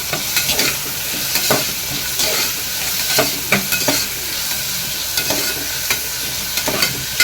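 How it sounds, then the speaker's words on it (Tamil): Onions sauté for kadalai kulambu, a steady loud sizzle of frying in a pan with repeated scraping stirs of a spoon, close up and without talk. "வெங்காயம் நல்லா வதக்கிக்கலாம்."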